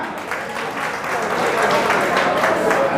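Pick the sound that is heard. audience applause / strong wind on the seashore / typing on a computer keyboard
audience applause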